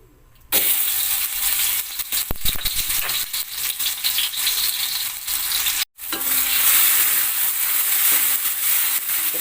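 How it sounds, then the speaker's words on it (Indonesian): Ground spice paste hitting hot oil in a pan, sizzling and frying loudly and steadily, cut by a brief pause before the sizzle resumes with stirring. "Kita panaskan minyaknya, kita tumis bumbu yang tadi kita haluskan."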